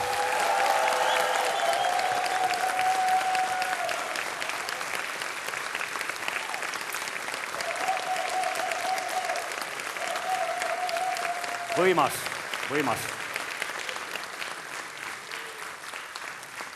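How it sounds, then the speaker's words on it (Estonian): Audience applause for the Rahvalõõts 2016 folk accordion competition winner, a dense sustained clapping of a large hall crowd, with a voice speaking over it near the start and middle and two sharp knocks midway. "Kasvatame selle aplausi veel suuremaks."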